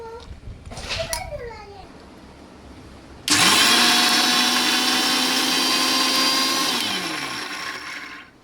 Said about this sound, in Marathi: चला आता सगळी डाळ आपण वाटून घेणार आहे मिक्सरमध्ये